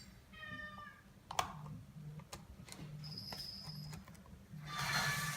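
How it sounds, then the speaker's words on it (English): A hungry cat meows faintly indoors during a repair of a BMW 5 Series F10 LCD screen. Several short, quiet meows are mixed with scattered clicks and light tapping, and a louder noise swells near the end. "And that's my hungry cat."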